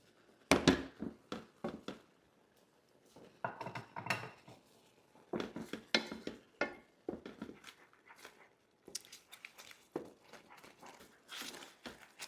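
Sour cream being stirred into meatball gravy in a pan, with a spoon knocking and scraping against the metal in irregular clinks and bursts, close and fairly quiet, with brief pauses between strokes.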